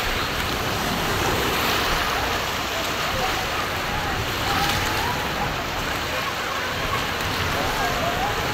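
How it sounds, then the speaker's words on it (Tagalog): Sea waves surge and wash continuously at a beach near Bacolod City, a loud broadband roar with wind noise, rolling on without a break. "Laki na ng alon, ah."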